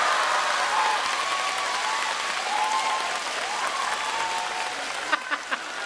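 Sustained audience applause in a theater at a Deyun Society crosstalk performance, broad even clapping that holds for several seconds, with a few louder close claps near the end.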